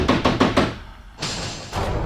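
Four quick, firm knocks on a door in a rapid burst, followed by a pause and some faint rustling.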